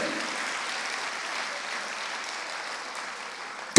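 A church congregation claps and cheers in sustained, dense applause filling the hall at an even level throughout.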